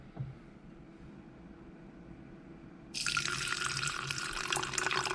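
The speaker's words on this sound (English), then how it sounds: "we're gonna go ahead and add some water" Water starts pouring steadily into a jar of mung bean seeds partway through, a continuous bright splashing that runs to the end after a quiet start.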